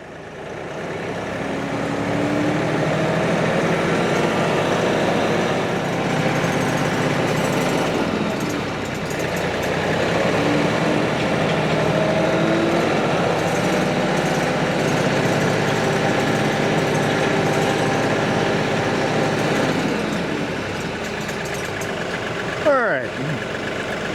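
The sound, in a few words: vehicle with manual transmission starting and driving off in 4th gear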